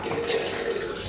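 Tap water runs steadily into a sink while a shaving brush is rinsed, a close, continuous splashing hiss with no talking.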